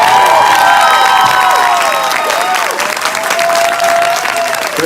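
Audience at a Creed II exclusive screening Q&A in Washington, D.C. gives loud, sustained applause with some cheering throughout, a dense crowd clapping close by.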